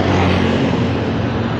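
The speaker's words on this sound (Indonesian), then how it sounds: "dari kejauhan ada bus Bagong via tol datang" A Bagong intercity bus arrives along a toll road at Braan, Kertosono, its engine a loud, steady broadband roar that fills the short stretch without a break.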